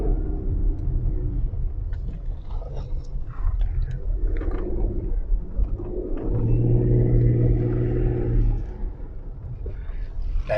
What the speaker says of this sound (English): That little whirring sound was the car beginning to struggle, and it's an automatic.